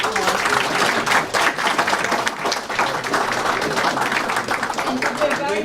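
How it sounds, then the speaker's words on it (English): At a school committee meeting, the audience applauds parents with sustained, dense clapping that fills the room, mixed with voices and cheering throughout. "So give yourself a round of applause."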